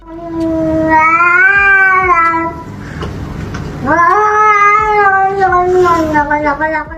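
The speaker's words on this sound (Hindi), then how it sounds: "बिल्ली शांत बैठने का नाम नहीं ले रही, जिसके मंत्र अभी भी शुरू ही हैं" A cat meows and caterwauls in two long, drawn-out, wavering yowls, loud and close, with a brief gap between them and no talk.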